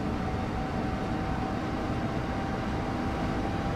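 Inside a train cab in Train Sim World 6, a dense, constant rumbling roar with a faint steady whine running through it, loud and unbroken, with no voices.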